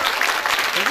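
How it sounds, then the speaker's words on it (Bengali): Applause from a university reunion audience at a mathematics department cultural event, dense and steady for about a second, fairly loud and close. "আরো একবার হাততালি হয়ে যাক"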